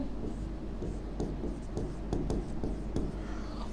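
A pen writing a total into a cash book, giving a close, steady scratching with short strokes repeating every half second or so over a low hum.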